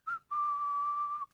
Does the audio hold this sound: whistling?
yes